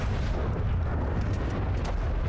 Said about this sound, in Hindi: RPG का धमाका देखो, बिल्कुल छोटा है इसके सामने